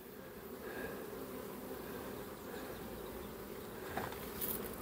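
Honey bees hum around an open hive at a spring apiary, a soft continuous buzzing swarm with a few closer passes, faint and with no talking.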